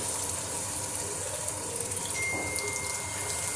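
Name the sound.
tamarind water being poured for village fish curry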